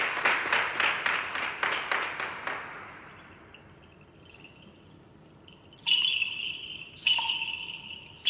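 A church congregation claps in praise of the Lord, steady rhythmic clapping for a few seconds that fades into quiet, followed by faint bright chiming tones.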